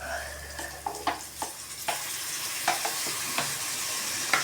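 Vegetables for veg fried rice stir-fry with soy sauce and chilli sauce in a pan, a low sizzle punctuated by repeated sharp spatula knocks and scrapes at an uneven rhythm.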